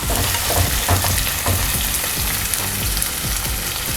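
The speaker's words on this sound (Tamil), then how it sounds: "வெங்காயத்தை நல்லா வதக்கிடலாம்." Onions sauté in a hot pan with a loud, dense, continuous sizzle and occasional stirring clicks, close up and without any talking.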